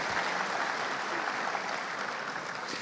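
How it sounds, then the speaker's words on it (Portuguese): Audience applause at a couples' retreat, dense continuous clapping that fills the room steadily for a few seconds, no voices rising above it. "Palmas para vocês."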